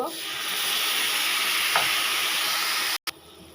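Close, continuous sizzling of spices being sautéed in a hot pan with a little water, cut off by a brief gap near the end.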